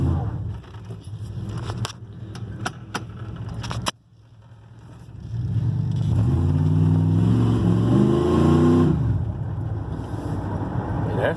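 A 1988 GMC Sierra pickup, a long-stored barn find, runs on the move with a steady, close engine drone that swells and holds loud after a brief dip, with rising and falling tones as it revs.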